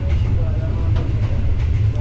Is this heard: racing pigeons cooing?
no